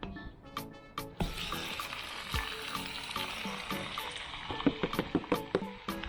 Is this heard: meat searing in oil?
yes